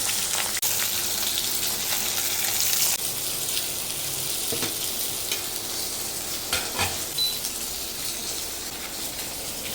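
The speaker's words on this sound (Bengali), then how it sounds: "একটু ভেজে নিচ্ছি, আলুগুলোও ভেজে নেব" Vegetables, including potatoes, frying in a pan for a Bengali eggplant curry, a steady loud sizzle with occasional stirring scrapes and clinks, no voices.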